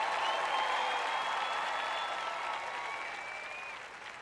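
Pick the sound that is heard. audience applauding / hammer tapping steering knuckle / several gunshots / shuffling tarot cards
audience applauding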